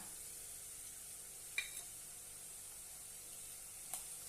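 Okra cooking in a pan with salt, amchur powder and garam masala gives off a faint, even sizzle, broken by two small clicks of stirring.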